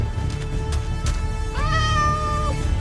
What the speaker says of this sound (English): Wait, the cat?